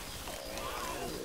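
A short, guttural roar from the Charger special infected in Left 4 Dead 2, heard close and loud in one brief burst.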